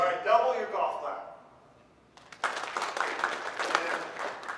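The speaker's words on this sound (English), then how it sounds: "All right, double your golf clap." Audience at a farming talk gives a doubled golf clap, a moderate patter of many hands starting after a pause and continuing steadily, following a brief stretch of speech at the start.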